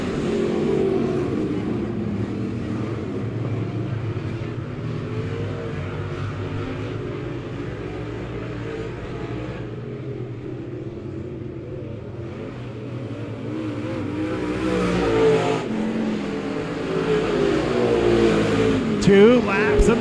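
Late model race cars roar around a dirt oval at Monett Raceway, a dense, layered engine drone that swells and surges as cars pass, with a commentator talking over the racing.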